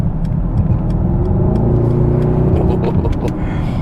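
A 2021 Mercedes-AMG GLS 63 with a 4-liter bi-turbo engine pulls away loudly, its deep engine rumble rising steadily in pitch as it accelerates.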